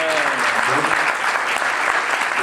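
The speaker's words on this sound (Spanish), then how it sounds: "Creo que Gustavo y el equipo se merecen un fuerte aplauso, me parece." A room at a PAMI technology conference in 2013 claps loudly and steadily for Gustavo and his team, the dense applause continuing throughout with a faint voice or tone briefly audible beneath it.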